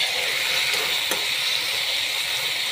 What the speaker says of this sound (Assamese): এয়া ঢেকীয়া ভাজি বনাইছোঁ